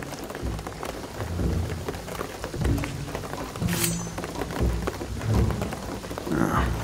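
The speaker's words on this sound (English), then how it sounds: "the rain is gonna flood this" Steady heavy rain hisses throughout while low thunder rumbles roll in and out, with occasional dull thuds, in the video game Shadow of the Tomb Raider; no one speaks.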